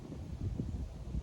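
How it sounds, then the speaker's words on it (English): Wind blows outdoors at an archery range, producing a continuous low rumbling buffet against the microphone for a short moment, with no talking. "it's pretty windy out today too, so sorry about the wind"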